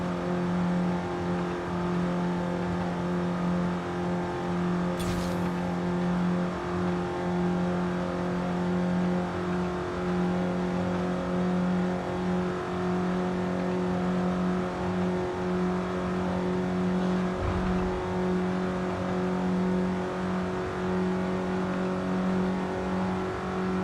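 A 1991 BMW accelerating hard in the racing game Forza Horizon 5, its engine holding a steady loud drone at high speed from start to finish, with no talking over it.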